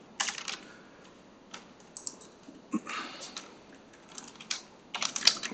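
Light tapping on a computer keyboard while working in a spreadsheet, with quick irregular bursts of soft clicks and short pauses between them, close and fairly quiet in a calm room.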